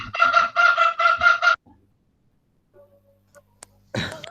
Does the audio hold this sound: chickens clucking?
yes